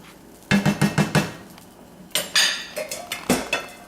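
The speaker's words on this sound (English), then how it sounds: "I'm going to make sure that we stir this all together." Mushroom sherry sauce being stirred in a pan, a utensil scraping and clinking against the metal in a quick run of about five sharp knocks, then a few more scrapes and taps, close and loud with no talking.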